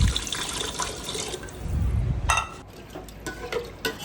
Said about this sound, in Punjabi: ਫਿਰ ਇਸ ਵਿੱਚ ਪਾਵਾਂਗੇ ਆਪਾਂ ਪਾਣੀ